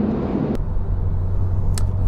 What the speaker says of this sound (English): Even the tire noise from the cars going past is quite loud to the human ear